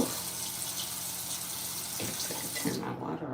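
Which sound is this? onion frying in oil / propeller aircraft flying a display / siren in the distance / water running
water running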